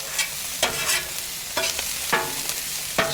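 Potatoes fry on a Weber Slate flat top griddle with a steady broadband sizzle, while a spatula strikes and scrapes the metal surface about five times, producing sharp, evenly spaced clanks over the hiss.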